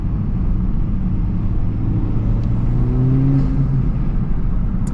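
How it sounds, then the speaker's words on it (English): A Honda Civic Type R FL5 with a resonator-deleted exhaust idles in a steady low rumble, swelling briefly partway through as the engine is revved, heard close and alone without talk. "so let's see if we can hear some exhaust."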